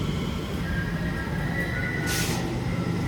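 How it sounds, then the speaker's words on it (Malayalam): Steady low rumble of a train interior, with continuous broadband noise and a brief hiss near the end, heard alone without voices. "അപ്പം ഞാൻ ട്രെയിനിൽ കയറട്ടെ"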